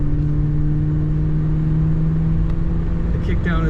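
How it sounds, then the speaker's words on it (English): A 1977 Buick Electra Limited's engine hums steadily from inside the cabin, its drone strong and constant as the car drives, with a brief rise toward the end as the transmission kicks down. "The kickdown is working on that transmission."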